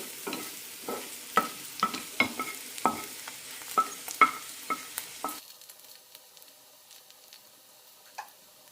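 Okra pieces fry in oil in a pan while a spatula stirs them, sharp scraping clacks landing every half second or so over a soft sizzle before the stirring stops and a quieter, steady frying remains.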